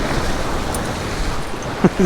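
Strong wind and surf at the Surfside Jetty, a steady broadband roar of gusting wind and breaking waves close to the microphone, with a brief louder thump near the end.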